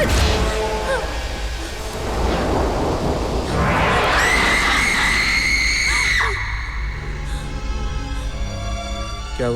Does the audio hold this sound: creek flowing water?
no